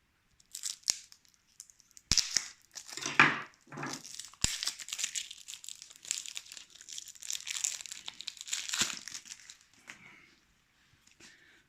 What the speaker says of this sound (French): Et enfin, les cartes. Je vais les ouvrir avec le couteau.